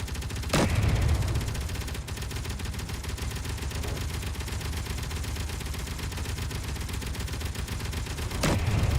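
Video game gunfire in an escape mission: continuous dense automatic fire and heavy shots, loud and steady, with a couple of sharper bursts standing out.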